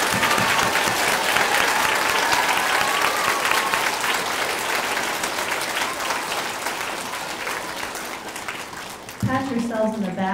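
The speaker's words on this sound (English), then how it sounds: "Kenwood Elementary, let's give one more big round of applause to Ms. Schurfranz." Elementary school audience gives loud, sustained applause and cheering in a gymnasium-like space, a dense continuous roar of many hands slowly tapering off, after which a voice begins speaking near the end.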